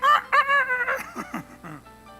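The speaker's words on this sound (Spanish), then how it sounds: "El gallo cantó" A rooster crows nearby, loud and alone, in a full cock-a-doodle-doo of rising and falling calls that fades out at the end.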